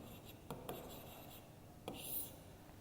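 Hand writing out a subtraction sum for a first-grade money lesson, faint pen or chalk strokes with a few short scratchy taps and rubs, quiet and sparse.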